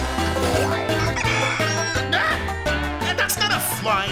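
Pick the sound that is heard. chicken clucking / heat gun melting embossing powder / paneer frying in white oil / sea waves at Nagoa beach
chicken clucking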